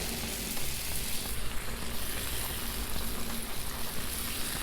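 Buns toast on a hot Blackstone griddle with a constant, loud, broadband sizzle that holds steady throughout, close up and with no talking over it.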